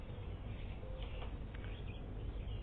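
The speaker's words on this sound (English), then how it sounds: "the birds are singing. You hear them all up there?" Faint, scattered chirps and calls of birds in trees drift over a steady background hiss, sounding distant and high up.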